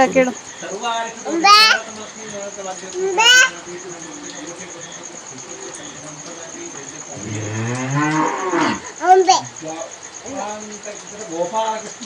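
Cattle moo repeatedly in a cow shed during a festival cattle-worship ritual, several loud, drawn-out calls standing out near the mic, with a steady high insect whine and some people talking in the background.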